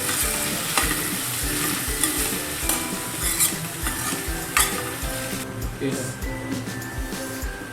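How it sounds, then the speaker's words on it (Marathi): Onion frying in a pan for chicken biryani gravy, a loud continuous sizzle broken by repeated scraping stirs of a spoon against the pan, close and busy throughout. "ग्रेव्हीसाठी आपण थोडासा कांदा टाकू याच्यामध्ये कांदा व्यवस्थित फ्राय करून घ्यायचा"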